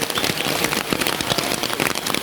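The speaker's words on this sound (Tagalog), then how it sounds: "Nabot kami ng malakas na ulan." Heavy rain pours down in a forest, a dense, loud, continuous patter of drops striking leaves and surfaces close around, with no voices.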